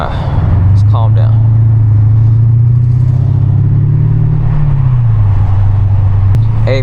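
A Mercedes engine burbles low after a downshift, a steady loud rumbling drone that dips in pitch as revs fall, close and continuous throughout.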